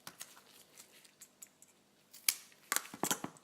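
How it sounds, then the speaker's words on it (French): Quiet rustling and handling noises, then a few crisp snips of small scissors cutting tape near the end, close by. "Le scotch qui dépasse, prenez un petit ciseau comme celui-là"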